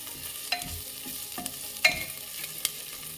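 Slit green chillies frying in a pan with chopped ginger for a Bihari-style bottle gourd curry, a steady sizzle broken by a few sharp stirring scrapes and clinks, close and alone with no voices.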